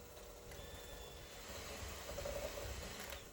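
Electric mixer beating sour cream cornbread batter in a bowl, a steady mechanical whir with a faint high whine running continuously at low-moderate level, no talk.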